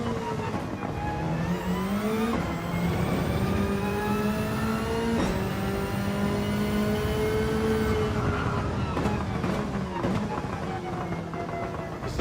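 A Toyota Supra's engine in the racing game Gran Turismo 7, revving hard and climbing through gears with shift drops, loud and continuous, with tyre and wind noise beneath.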